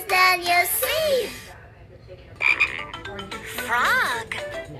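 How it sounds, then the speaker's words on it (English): Electronic frog croaking from a Fisher-Price Laugh and Learn animal sounds game toy, bright synthetic croaks mixed with chirpy tonal sweeps in two bursts separated by a brief quiet gap. "Frogs can croak."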